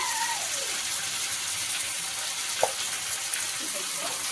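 Ground spice paste with cumin and coriander powder sautéing in a hot pan, giving a steady, even sizzling hiss broken by a couple of small pops, with no talking.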